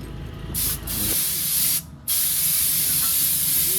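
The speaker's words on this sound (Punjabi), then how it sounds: "ਲਓ ਜੀ ਡੀਜ਼ਲ ਦੀ ਸਪਰੇਅ ਵੱਜ ਰਹੀ ਆ" Loud bursts of pressurized diesel spray hiss close by on a tractor, starting and stopping a few times with short breaks, then running continuously to the end.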